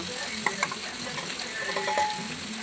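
Fish pieces going into a simmering fish curry for a Sunday meal, with a steady soft sizzle and a few light stirring clinks and splashes near the pan.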